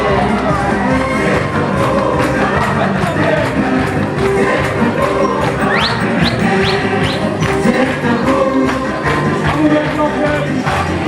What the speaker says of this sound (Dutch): En geef nog eens een keer een geweldige applaus met een 3 keer zitter eraf